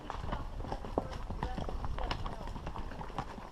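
Hooves of a Rocky Mountain horse clip-clop in a steady, close rhythm of sharp knocks, with people talking over them.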